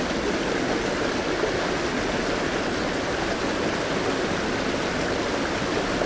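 Blaber river in Glen Helen on the Isle of Man, a modest stream flowing down from the hills, gives a steady, close rushing wash of water that carries on evenly from start to finish with no talk.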